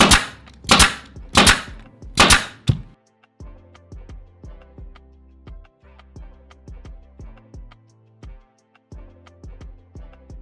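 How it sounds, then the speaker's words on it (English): Grain sack fabric corners are stapled onto a bench, a quick series of sharp, loud staple-gun snaps at first, then lighter clicking and tapping taps in irregular rhythm, close up with no talking. "These corners I'm just gonna staple"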